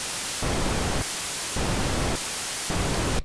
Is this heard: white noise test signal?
yes